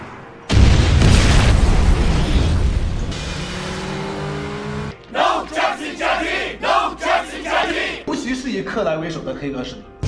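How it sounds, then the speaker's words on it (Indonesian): A film bomb blast erupts in a loud, sustained roar with crowd shouting, fading after a few seconds into dialogue as people speak over a low rumble. "Bai An meledakkan bom yang ia pasang untuk menghabisi anak buah Long Tai"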